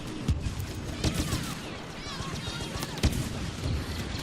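Grenades and gunfire in the Star Wars Battlefront beta, a dense barrage of booming blasts and crackling shots with a few sharp peaks, loud and continuous throughout.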